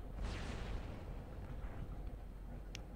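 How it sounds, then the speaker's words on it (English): A bomb explodes in the mech combat game War Robots, a deep rumbling blast that swells early and then rolls on as a low, dense roar, with no talk over it. "Bomb."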